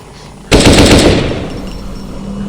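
A loud burst of rapid automatic gunfire erupts suddenly in a zombie video game, then rings out and decays over the next second or two.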